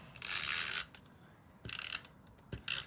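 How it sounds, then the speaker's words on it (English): Adhesive tape is pulled off and pressed down in three short ripping bursts, each a bright, crackling peel, with quiet handling sounds between them and no voice. "I love the sound of these adhesive things"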